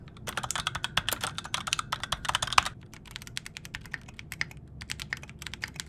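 Rapid clicky keystrokes from a clacky office computer keyboard, bursts of fast typing with brief pauses, close and fairly quiet, no talking.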